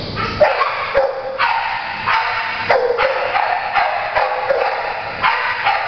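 Bruno, a seven-year-old, 40-pound Canaan dog, barks over and over in a steady run of loud, close, sharp barks that fill the whole stretch without pause.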